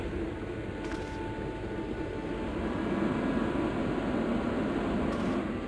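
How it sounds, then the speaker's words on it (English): A hand dryer or hair dryer blows steadily on a plaster cast in the Broken Sword adventure game, a continuous even whirring hum that holds at the same level throughout. "That's where I used the dryer to speed up the process"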